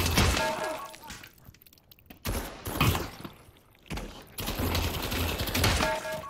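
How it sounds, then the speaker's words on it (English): Bursts of automatic gunfire in the VR shooter Pavlov VR, loud rattling volleys separated by short pauses, with sharp cracking impacts mixed in. "A million shots and then I die"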